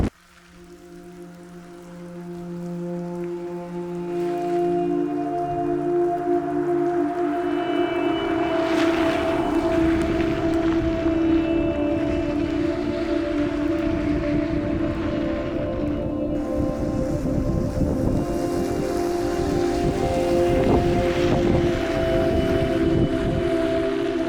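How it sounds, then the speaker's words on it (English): Rough surf and gusting wind on the rainy Oregon coast of the Pacific Northwest, a steady loud wash of broadband noise with a low tonal drone underneath, building over the first seconds and then holding. "Just angry waves, wind, rain, mist."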